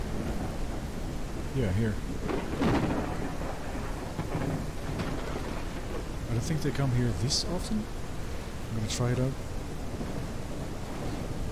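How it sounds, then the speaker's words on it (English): A steady thunderstorm in the dinosaur survival video game The Isle Evrima fills the background with constant rain hiss and low rumbles of thunder, while people talk intermittently over it. "Storms are very loud."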